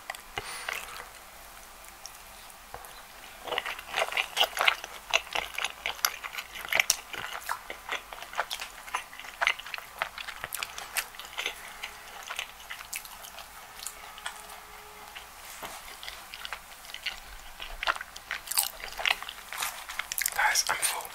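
Roti being bitten and chewed close to the mic in a soft ASMR setting, with repeated crisp mouth clicks and smacking textures over a steady faint hiss, continuing for the whole stretch.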